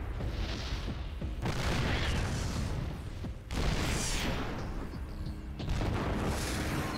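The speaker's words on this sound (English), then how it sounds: "There is a nuclear missile on the way." A nuclear missile detonates in StarCraft II, a dense, roaring wall of deep booming rumble that surges in several loud waves with brief dips between them.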